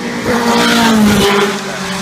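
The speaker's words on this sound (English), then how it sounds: "Formula 2 BMW M12-7 engine, 300 horsepower." A Formula 2 race car with a 300-horsepower BMW M12-7 engine at the Goodwood Festival of Speed gives a loud, sustained engine roar whose pitch sweeps downward as it passes close by, with no voices.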